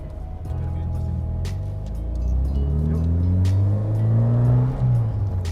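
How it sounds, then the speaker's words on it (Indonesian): A Toyota Celica RA60 with a non-standard, noisy aftermarket exhaust is heard from inside the car as it drives. Its engine note is loud and rising, and the revs climb in steps through the gears, with a few brief clicks on top. "suaranya agak berisik karena memang knalpotnya udah nggak standar nih."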